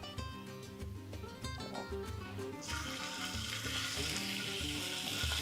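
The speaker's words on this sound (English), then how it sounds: "It's just going to help brown our meat off." Beef sizzles as it browns in olive oil in a pan for a Spanish-style paprika beef, a steady crackling hiss beneath background music that grows noticeably louder and brighter partway through.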